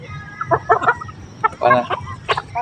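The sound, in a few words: chickens clucking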